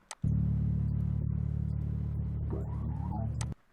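An electronic pad sound with the midrange scooped out rings as one hollow, low sustained tone for about three seconds, then cuts off abruptly.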